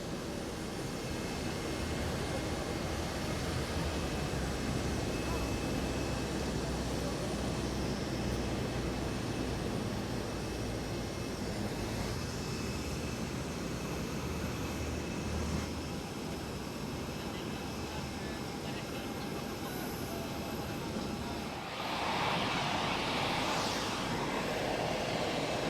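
An All Nippon Airways airliner departs airside at Kuala Lumpur International Airport on the Tokyo Haneda route, giving a steady, continuous engine roar that stays loud and close throughout.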